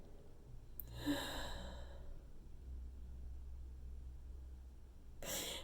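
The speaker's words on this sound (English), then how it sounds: "And I breathe." A single deep breath drawn in slowly and released as a long, soft sigh close by, followed by quiet and the start of another inhale.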